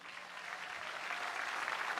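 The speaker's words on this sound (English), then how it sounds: "So give them a round of applause." An audience at a country music showcase applauds a live band, a faint, dense patter of clapping that runs steadily through the whole moment with no voices.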